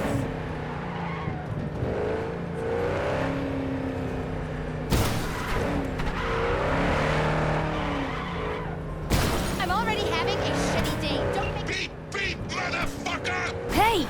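A car drives in Cyberpunk 2077, its engine revving and tires skidding in loud bursts and squeals, with a player talking over the driving.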